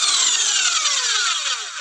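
A Soviet-made Lepse electric nibbler shears runs alone at close range, giving a loud, continuous high-pitched whine that slowly falls in pitch over under two seconds.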